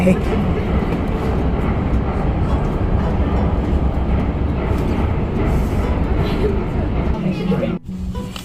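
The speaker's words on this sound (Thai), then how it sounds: "พวกเราก็นั่งรถไฟเมโทรกลับบ้านกันค่ะ" Steady, loud rumble of a metro train ride in Denmark fills the whole clip, with a dense low roar and faint babble, dropping briefly near the end.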